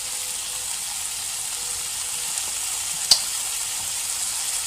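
Vegetable spring roll filling fries in a pan with a steady soft sizzle, close and even, broken by one sharp click of a utensil near the middle.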